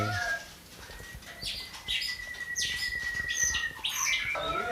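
White-rumped shamas chirp and whistle in quick bursts with a long steady whistled note, plus wing flutters, nearby and fairly loud over a busy background in a breeding aviary.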